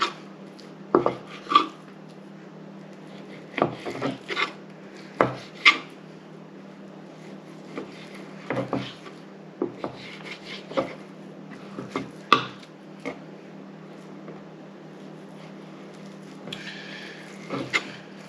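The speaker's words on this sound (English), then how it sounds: "what I'll do with this is start slicing that down" A knife works through a deer hind quarter on a cutting board, cutting the meat into small jerky chunks: sparse, close taps and soft slicing strokes come in irregular bursts over a steady low hum, with no talking.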